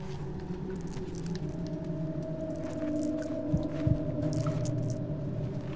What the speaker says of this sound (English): Why do I hear this dude's heart beating?